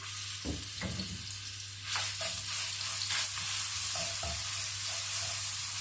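A steady sizzle of crushed garlic frying in hot oil, with occasional scrapes and stirring clunks from a pan, close by.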